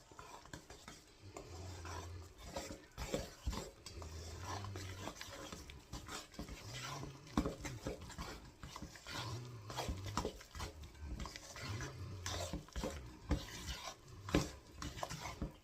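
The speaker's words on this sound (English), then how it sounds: "now we're stirring this in to form a dough, a ball" Flour being stirred into a wet dough for chicken and dumplings, with a utensil repeatedly scraping and clacking against the bowl in an uneven rhythm, close and alone.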